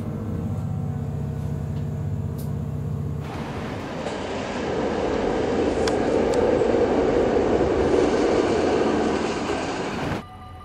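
A NS-41 Blauwe Engel train sounds first as a steady low idling engine hum, then rolls past with a loud, broad rumbling roar of wheels and carriages that cuts off abruptly near the end.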